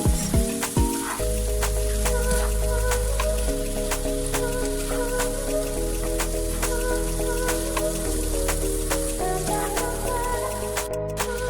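Peppers and gizzard frying in a pan, a steady close sizzle with light crackles and occasional clinks, over faint music, with no talking.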